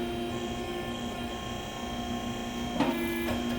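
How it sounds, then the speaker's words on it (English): A Hunter TCX635 tire changer lowers a wheel that has a Galaxy Beefy Baby II 16.5-inch tire, making a faint steady machine hum with a short mechanical clunk near the end. "We can drop that wheel back down"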